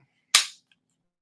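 A single sharp Flux Raider pistol shot pops close by as a short bright crack with a quick decay, followed by a tiny faint click.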